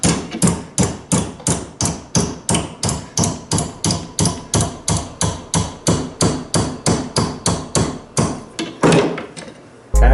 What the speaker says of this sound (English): just with a hammer I'm just going to bend it over to 90 degrees.